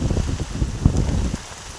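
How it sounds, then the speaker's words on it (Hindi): Heavy monsoon rain pours outdoors, a dense continuous patter with wind noise buffeting the microphone and occasional louder splashes. "आज बारिश का धमाका।"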